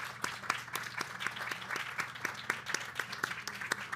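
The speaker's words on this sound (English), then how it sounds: "Can we give one more round of applause?" An audience at a seaweed festival science talk session applauds the speakers, with steady, fairly close clapping and distinct individual claps, continuous throughout with no talking over it.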